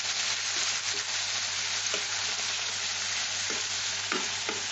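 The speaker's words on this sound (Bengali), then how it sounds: "চিংড়ি মাছটা খুব সুন্দর করে ভেজে নিতে হবে।" Shrimp frying in a pan after being coated in salt and turmeric, a steady close sizzle with occasional soft stirring scrapes, alone without talk.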